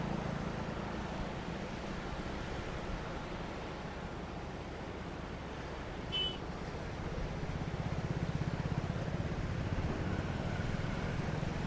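Water rushes under pressure at the Bhadgaon bridge construction site, where a road roller lays gravel. It makes a steady, broad roar throughout, with one brief electronic beep partway through.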